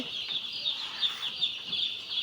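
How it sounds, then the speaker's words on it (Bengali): Day-old broiler chicks in a poultry farm holding about 1500 birds, a dense continuous chorus of high-pitched cheeping with many overlapping peeps, close and steady throughout. "দেখতে পাচ্ছেন আপনারা এখানে ব্রয়লার মুরগির বাচ্চা আছে।"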